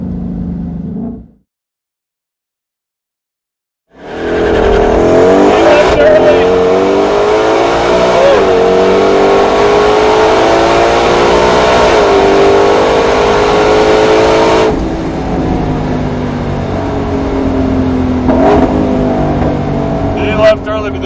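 Ford Mustang GT500 (2020) engine on a track, loud and close: revs climb and hold steadily for about ten seconds after a brief silence, then ease slightly, with a rising pitch sweep through the run.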